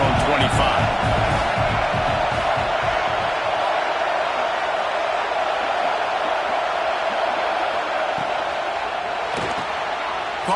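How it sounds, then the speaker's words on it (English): A stadium crowd in a college football video game roars as a steady, loud wash of noise with a few sharp thumps early on, while a commentator talks over it. "Man, this crowd really affecting the football game."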